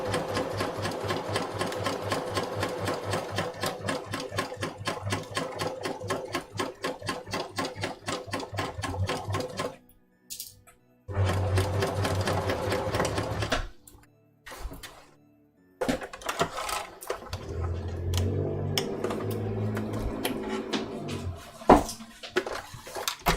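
A sewing machine stitches waistcoat pieces in long, fast rhythmic runs, stopping and restarting several times with a few thunks and handling noises in the gaps.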